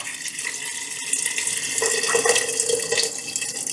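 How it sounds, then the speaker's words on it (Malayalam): Water pours and splashes steadily into a pressure cooker, a continuous running gush that rises slightly in the middle. "ഇനി ഇത് മുങ്ങിക്കിടക്കാൻ ഭാഗത്തിന് വെള്ളം ഒഴിച്ചെടുക്കുക"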